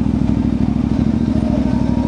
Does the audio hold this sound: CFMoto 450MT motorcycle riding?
yes